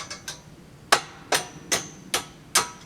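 Five sharp claw hammer strikes land at a steady, unhurried pace, close and distinct, with a few lighter taps before them and no talking.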